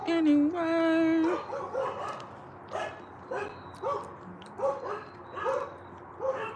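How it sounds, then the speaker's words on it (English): A dog barks repeatedly at close range, opening with a drawn-out whine or yelp and then settling into a run of evenly spaced, fairly loud barks. "Why are dogs always like barking so much?"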